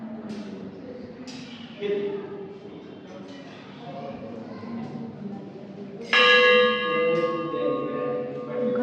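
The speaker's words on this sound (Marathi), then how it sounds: "घंटा तर बघा ना किती मोठी आहे." A large temple bell rings out strongly with a bright, sustained metallic tone that lingers, following earlier fainter strikes beneath a murmur of nearby voices in a temple hall.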